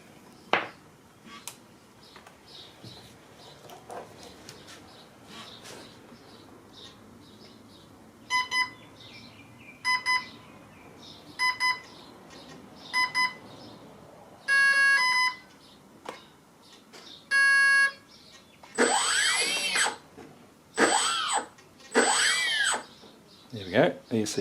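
A model airplane ESC sounds repeated electronic beep sequences while its brake is set, short tonal bursts in groups, then longer warbling tones, close up over faint room noise.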